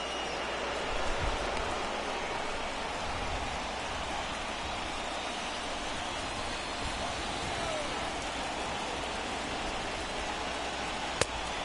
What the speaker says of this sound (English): it is raining like crazy though, man